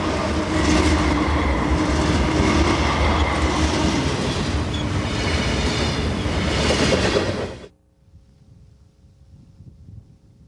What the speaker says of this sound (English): most trains simply blow through Oroville